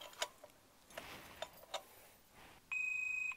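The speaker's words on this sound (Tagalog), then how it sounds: "Nag-beep siya ng isa." A few faint clicks and ticks, then a single electronic beep from a motorcycle alarm, steady and fairly loud, lasting under a second; quiet otherwise.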